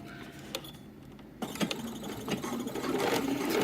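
Sewing machine stitching the edge of a double-sided flannel baby blanket with an even feed foot, a steady mechanical whir that starts after a quiet pause and grows louder and denser toward the end.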